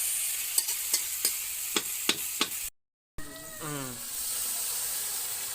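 Meat frying in a pan with a steady close sizzle and hiss. A short gap follows, then stirring with bursts of louder sizzling.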